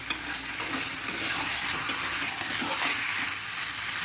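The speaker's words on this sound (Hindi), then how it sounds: "देखिए चिकन फ्राई हो रहा है" Chicken fries in a thick gravy masala, making a dense, continuous sizzle and bubbling close by. Faint stirring can be heard underneath, and no one speaks.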